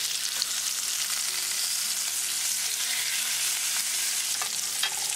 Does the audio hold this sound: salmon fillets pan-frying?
yes